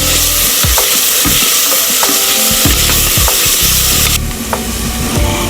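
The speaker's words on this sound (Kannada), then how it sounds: "ಫ್ರೈ ಮಲ್ಪುಲೆ." Coconut chili paste with garlic frying in a pot for a South Indian one-pot dish, a loud steady sizzle broken by repeated scraping knocks of a stirring spoon, close up, no talk.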